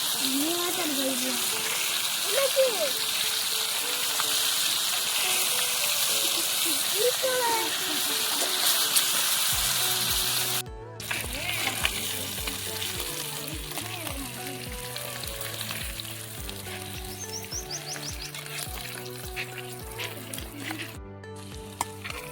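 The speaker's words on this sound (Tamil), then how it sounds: "மீனை பொரிச்சாச்சு." Fish caught from a village pond frying in a pan, a steady broadband sizzle running throughout, joined partway by a rhythmic beat of music underneath.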